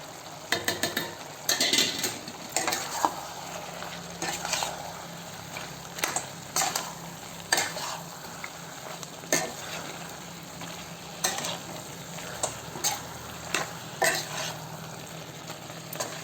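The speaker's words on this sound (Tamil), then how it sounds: "நல்லா ஒரு 2 நிமிஷம் பார்த்து நல்லா கலக்கி விடணும்" A chicken gravy with chili powder and coriander powder is stirred in a pan, a soft steady sizzle under repeated sharp spoon scrapes and clinks against the metal, at an irregular rhythm and close by.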